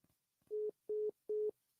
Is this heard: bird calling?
no